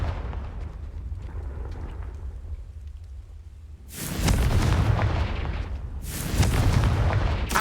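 Two Confringo spell explosions in Hogwarts Legacy, each a loud booming burst with a rumbling tail, the first after a low ambient stretch and the second about two seconds later.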